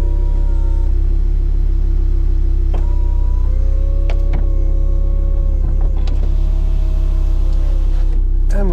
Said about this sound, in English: we go the full Monty and drop the roof